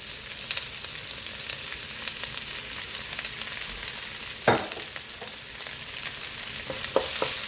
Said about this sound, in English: Then we want to add our bitter melon.